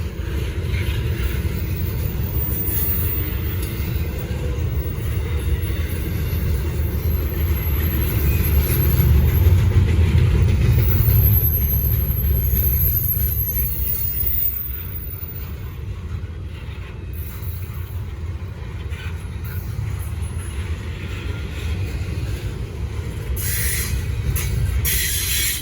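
A Norfolk Southern freight train, number 241 southbound, rolls past in Gaffney, South Carolina, with a continuous heavy rumble of cars and wheels and high metallic wheel squeals on and off throughout, a little louder near the middle.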